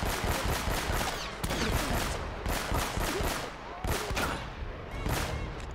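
Dense gunfire from Uncharted: Drake's Fortune, including shotgun blasts, cracks out as a rapid, continuous barrage of sharp shots, loud and close, for several seconds with no gaps or talk.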